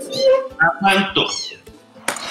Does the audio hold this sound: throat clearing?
no